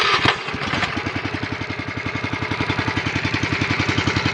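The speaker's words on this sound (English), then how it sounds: "Next, you want to start the pump." A fire rescue truck's pump engine cranks and catches after a brief rough start, then settles into a steady, rapidly pulsing mid-pitched run, close and fairly loud with no voices.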